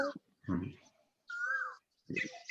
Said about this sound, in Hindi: कोयल की आवाज कहाँ से आ रही है?